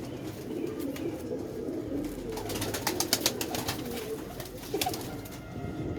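Pigeons coo continuously at close range in low, throaty rolling calls. A few sharper flutters or chirps break in near the middle.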